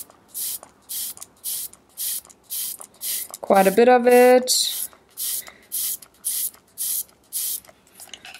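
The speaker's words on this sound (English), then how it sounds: "I'm going to start spraying things into this palette." Repeated short hissing bursts of paint sprayed into a palette over a paper towel, about a dozen evenly spaced sprays, close and fairly loud, with a brief moment of speech in the middle.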